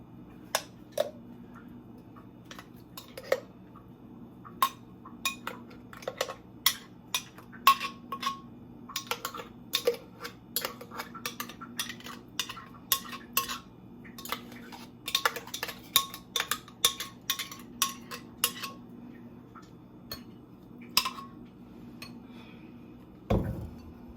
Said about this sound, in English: we're gonna put our smoothie in the bowl